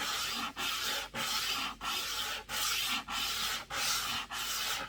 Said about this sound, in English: I'm going to use my sanding block to take this edge off